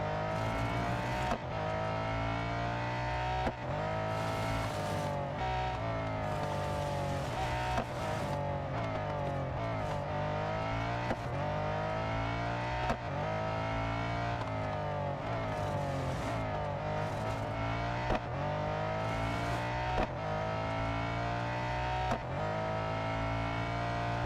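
A race car in the video game Real Racing 3 drives hard: its engine whines steadily with rising revs, repeatedly dropping at gear shifts, in a continuous high-pitched drone.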